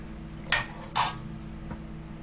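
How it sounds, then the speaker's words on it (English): Hot syrup is ladled into glass canning jars for mandarin oranges, with two close clinks of metal on glass and a faint tap after them in a quiet kitchen. "I'm going to ladle our hot syrup into our jars."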